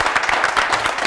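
Audience at a school quiz competition clapping, a brief dense burst of applause filling about a second.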